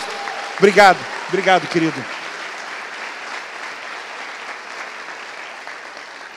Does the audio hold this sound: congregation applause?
yes